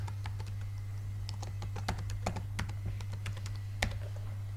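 Fingers type on a computer keyboard to enter a scene name, producing quiet, close, irregular bursts of sharp key clicks over a low steady hum.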